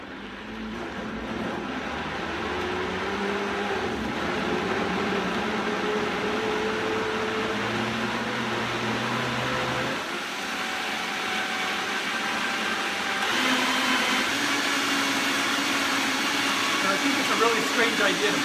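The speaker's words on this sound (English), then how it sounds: "Put it on the blender." A kitchen blender whirs steadily while blending a natto smoothie with herbs, a loud continuous motor drone that shifts pitch partway through as the contents churn.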